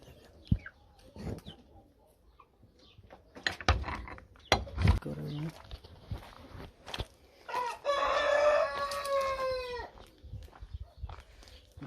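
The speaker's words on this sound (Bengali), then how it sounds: "এই যে ভিতরে মুরগি" Chickens clucking and a rooster crowing in a backyard coop at a rural house in Romania, with scattered clucks and rustling early, then a loud, clear crow.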